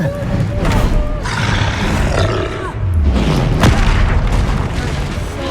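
A Confringo spell in Hogwarts Legacy bursts into deep, rumbling blasts with a roaring, growling tail, loud and dense throughout as the explosions overlap in quick succession.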